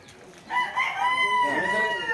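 A rooster crowing close by on a farm where fighting cocks are kept, a single loud drawn-out cock-a-doodle-doo with a harmonic, wavering call.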